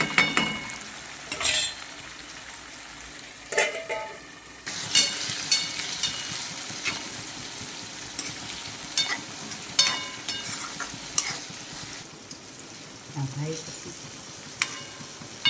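Tomatoes and masala frying and being stirred in a hot pan for batata poha, a steady close sizzle broken by repeated scrapes and clinks of a spoon against the metal.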